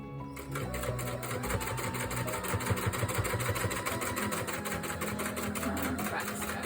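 A sewing machine runs steadily while back stitching fabric for a tissue holder, with a fast, even mechanical whir and chatter that holds for several seconds, close and fairly quiet, with a brief change in pace near the start.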